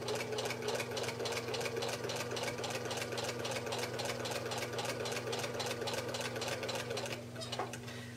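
A sewing machine stitching a quilt-style pieced seam, a steady rapid mechanical chatter with a constant motor hum, running close and continuous for about seven seconds before easing slightly at the end.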